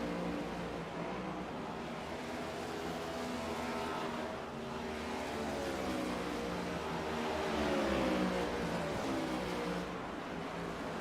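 A pack of race cars streams around Watkins Glen in a sim racing series, with overlapping engine drones rising and falling in pitch under a steady wash of road noise.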